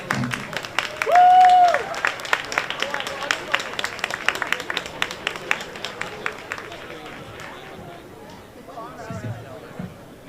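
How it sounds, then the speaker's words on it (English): A reception crowd at a Jamaica 60 launch in New York breaks into scattered applause. The individual claps are close and distinct and thin out over several seconds, while a voice speaks near the start and murmurs of chatter sit beneath. "one more time, round of applause for the Honorable Babsy Grange"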